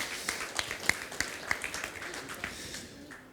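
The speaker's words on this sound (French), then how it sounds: "et vous pouvez l'applaudir" An audience applauds after a presentation at a conference on moving from a linear to a circular economy, scattered claps fading out over a few seconds, moderately distant in a hall.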